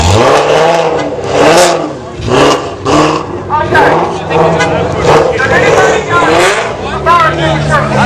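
A Mazda RX7 FD rotary engine revs hard at a 2-step battle in loud, repeated bursts with rising and falling pitch, while crowd voices shout over it.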